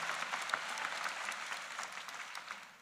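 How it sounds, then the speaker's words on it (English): Steady applause from the audience at a university social work graduation ceremony, a dense patter of many hands clapping throughout that thins slightly toward the end. "A round of applause to both of the sibling dyads."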